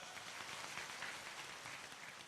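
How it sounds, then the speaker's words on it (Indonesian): Faint, steady clapping from a crowd at a religious study gathering, a continuous wash of many hands heard at a distance with no talk over it. "Tepuk tangan ikhlas gini."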